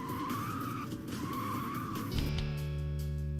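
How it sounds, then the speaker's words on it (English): A car in the Hot Wheels: World Race video game drifts with a steady tire skid, then kicks into a boost as the engine tone rises into a loud, sustained buzzing roar near the end. "combine the drift state and boost states together by pressing the handbrake and gas while simultaneously receiving a boost"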